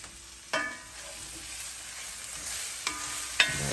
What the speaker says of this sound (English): we're going to let those fry until they are translucent and wilted